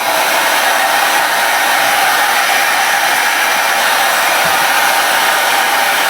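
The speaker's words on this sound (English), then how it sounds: "So we've got the heat gun in there" Heat gun blowing steadily on the dash-top vent cover of a Mk1 Audi TT during vinyl wrapping, a loud, close, unbroken fan-and-air hiss like a hair dryer.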